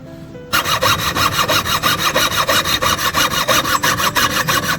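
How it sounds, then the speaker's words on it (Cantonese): A hand fretsaw cuts through wood along a drawn outline in quick, even back-and-forth strokes, close and loud, a steady rasping rhythm of about four strokes per second with no talking. "keep 住喺嗰個輪廓線嘅外面鋸啦"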